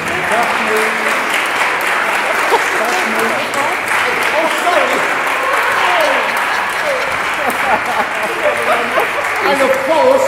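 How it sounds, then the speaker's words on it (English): An audience applauds performers with sustained, dense clapping, loud and continuous throughout, mixed with scattered cheers and voices from the crowd. "please give these performers a big round of applause"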